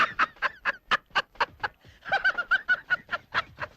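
A chicken clucks in a quick, close run of about a dozen and a half sharp, evenly spaced calls, with a brief gap midway.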